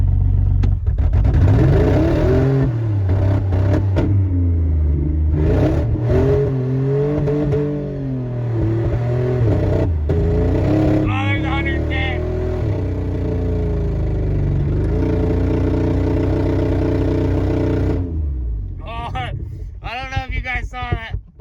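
A 2004 Dodge Dakota pickup engine accelerating in second gear, its revving pitch rising and shifting in long sweeps from inside the cab, loud and steady, with people talking over it.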